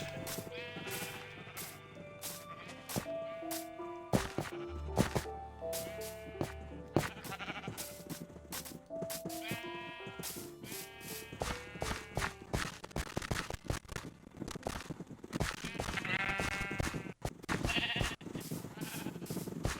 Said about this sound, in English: Yeah, that's quite a few sheep